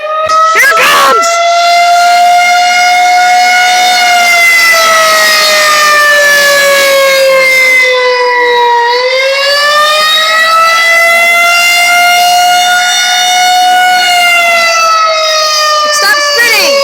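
Loud outdoor tornado civil defense siren during a test, its rotating wail rising and falling in a long slow sweep as the horn turns toward and away; close and dominant throughout, with brief knocks near the start and end.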